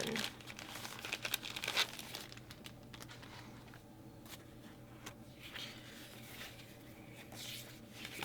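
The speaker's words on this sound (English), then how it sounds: "Add a couple stickers, and this one will be done." Stickers peeled from a backing sheet and pressed onto a mat craft project, heard as soft close crinkling and rustling with a few brief tearing sounds, loudest early and then quieter.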